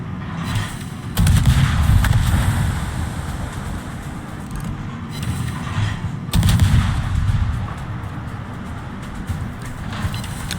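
Video game gunfire from a gate turret and an elbow position firing at the player, a continuous rumbling barrage with two louder bursts, steady and fairly loud throughout, with no voices.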